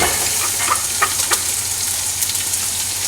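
Onions and garlic fry in a pan for chicken arroz caldo, giving a steady close sizzle with a few light scrapes and clicks over about three seconds, no voices.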